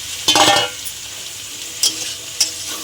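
Yam and potato pieces hit a pan of red-chilli spiced masala with a burst of sizzle and scraping, followed by a softer steady fry and two brief spatula taps, close with no talk.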